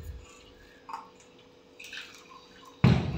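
Blended coconut milk, thinned with water, is strained during soup preparation. A few soft, scattered drips and squishy liquid sounds come first, then a louder splash near the end.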